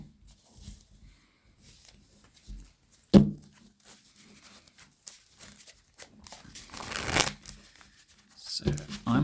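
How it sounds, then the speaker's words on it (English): Pokemon trading cards being mash shuffled, a clunky riffling rustle that comes in several loud bursts between quieter stretches, with people talking nearby. "I'm a big advocate of the mash shuffling method"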